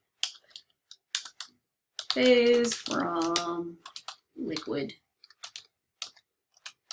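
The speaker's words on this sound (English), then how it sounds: "my typing is horrible" Scattered clicks of typing on a computer keyboard, irregular short taps spread throughout, nearby and fairly quiet, with a stretch of talking in the middle.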